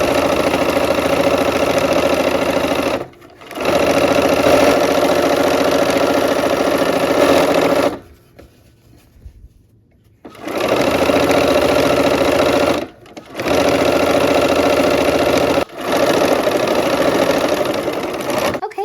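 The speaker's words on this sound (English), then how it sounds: "We're gonna go ahead and sew." A sewing machine stitches a quilt block seam in long loud runs of rapid, even whirring. Short pauses break the runs, and one longer stop falls near the middle.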